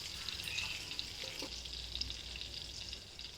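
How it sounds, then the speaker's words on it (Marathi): Cumin seeds fry in hot oil and butter for a spiced Punjabi rajma masala, giving a steady, close crackling sizzle that runs through the whole stretch, with no talking. "तेल घालून घेतले जरा बटर घालायचं जिरी घालायची"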